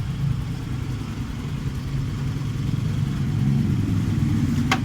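Yamaha Soul GT 125 motorcycle engine idling while being tuned, a steady low chugging hum that rises a little toward the end, close and continuous with no talk.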